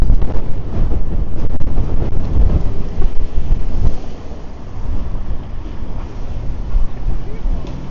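Strong, gusty wind buffets an outdoor microphone on a city street in Toronto, a loud continuous low roar with heavy rumbling gusts that ease slightly toward the end.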